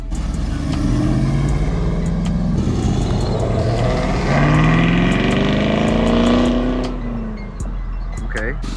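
A Dodge Charger Scat Pack 392 V8 rumbles loudly at a cars-and-coffee exit, its deep tone swelling as it pulls past, with people talking excitedly over it throughout.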